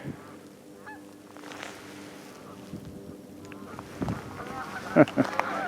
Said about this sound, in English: Oh, the ducks just heard me. There they go, or the geese rather